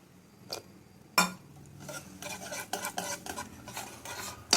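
Cake batter with cardamom powder being beaten in a bowl for a mango cake, producing steady scraping and clinking of the utensil against the bowl, with a couple of sharper knocks, close and fairly quiet.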